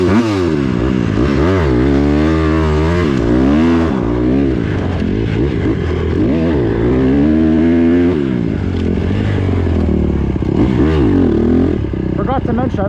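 A pit bike ripping a lap of a muddy championship race track, its small engine loud and close, repeatedly revving up and dropping off through the corners for the whole stretch.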